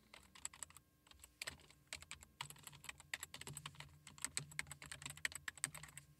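Brisk typing on a computer keyboard: a run of quick, uneven key clicks, close and clear, with no voices.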